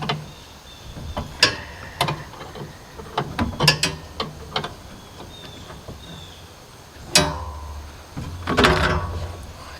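Jam nuts being tightened on a Husqvarna zero-turn mower's hydro drive, heard as bursts of ratcheting clicks and metallic tool clatter, close and fairly loud, with a longer rattling burst near the end.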